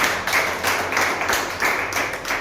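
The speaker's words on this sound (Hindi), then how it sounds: "एक बार के लिए जोरदार तालियां।" Loud applause from an audience at a business meeting, dense clapping with rhythmic swells every half second or so, continuous and close.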